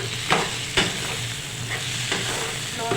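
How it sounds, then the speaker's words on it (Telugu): Eggplant frying in hot oil makes a close, steady sizzle, with a few sharp crackles and bursts of stirring standing out over the bubbling. "నూనెలో భలే మరుగుతున్నాయి వంకాయ"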